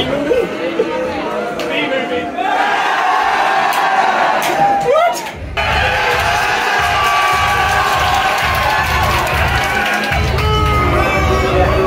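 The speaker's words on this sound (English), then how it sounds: "They're cheering whenever the B is on screen." A cinema audience at a B movie screening cheers and shouts, dense crowd chatter and whooping throughout, with a brief dip before the noise swells again, loud and close.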